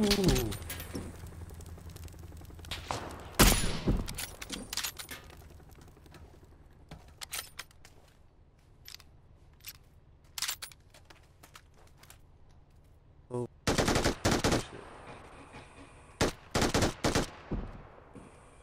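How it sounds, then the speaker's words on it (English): Bursts of rapid gunfire in the video game PUBG crack in short volleys against a quiet background, some loud and close, others thinner, with pauses between. "All this gunfire and nobody's died."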